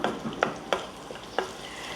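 Cumin, curry leaves and garlic crackle in hot oil for an egg bhurji, a soft, close sizzle punctuated by four quick spoon scrapes, with no voices.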